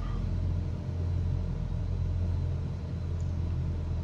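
An aircraft engine in Microsoft Flight Simulator sits throttled back to idle on the approach to Cape Town, a steady low droning hum that holds even and unchanging throughout.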